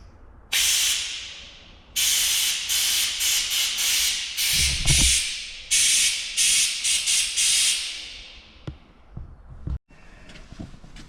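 A custom-made lawn sprayer with a spray shield hisses out water in a series of short and long bursts, starting and stopping repeatedly, close by and with no talking.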